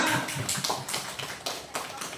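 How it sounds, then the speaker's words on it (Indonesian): Many hands clap for Ibu Ana at a teachers' positive-culture dissemination event in Hulu Sungai, a dense, steady patter of applause that swells in waves and lasts throughout at moderate distance. "Coba tepuk tangan lagi buat Ibu Ana."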